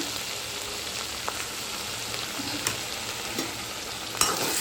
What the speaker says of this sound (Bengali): আগে থেকে পেস্ট করা পেঁয়াজ, আদা, কাজু, কিশমিশের ওইটাও আস্তে আস্তে মিশিয়ে দিচ্ছি